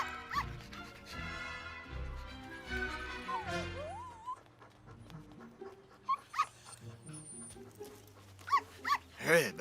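A pet dog named Sammy barks and yips in short bursts, with whimpering notes, close by; several sharp barks cluster near the end, mixed with speech and background music.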